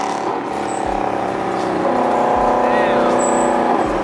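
A BMW M3 drives past nearby, its engine note rising and sweeping by loudly, with some talk in the background.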